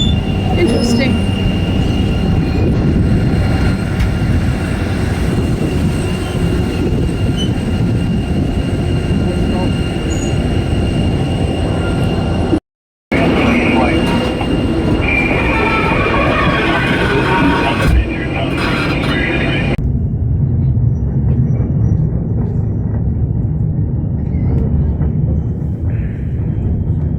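A train rolls steadily past near a busy Skagway cruise port, a loud continuous rumble with a brief squeal, a short cutout midway and a quieter, duller stretch toward the end; voices murmur underneath.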